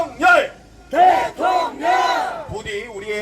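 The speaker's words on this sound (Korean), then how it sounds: "윤석열 대통령 3번 연호하고 박수 쳐주시죠." A crowd at a political rally outside the National Election Commission chants a leader's name in three loud rhythmic bursts, voices swelling together and trailing into cheering and clapping.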